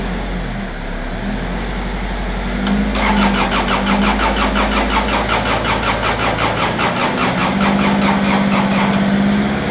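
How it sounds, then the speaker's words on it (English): A diesel lawn mower engine that has sat unused for months cranks on and on in a rapid, even churning rhythm without catching, loud and close with no voices. "See, it's got so much diesel in there and it just ain't igniting"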